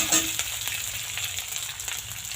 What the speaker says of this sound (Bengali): দিন হচ্ছে কাঁচা লঙ্কা চেরা দিয়ে এটা একটু 2-3 মিনিট ভালো করে কিন্তু নাড়াচাড়া করে দিন